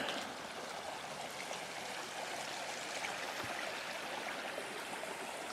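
Steady rushing of a river flowing past a campsite in New River Gorge National Park, a soft continuous stream babbling nearby with no voices.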